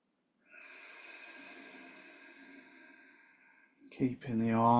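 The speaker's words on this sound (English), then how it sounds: "Breathing in through the nose and out through the nose" Slow, steady nasal breath during a morning yoga session, one long soft inhale-exhale lasting a few seconds, close and quiet, followed by a person starting to speak.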